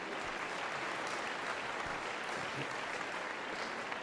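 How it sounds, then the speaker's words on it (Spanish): A church congregation gives a strong round of applause to the Lord at a Sunday morning service, a dense, even roar of clapping that fills the whole stretch without a break. "Denle un fuerte aplauso, hermanos, en esta mañana al Señor"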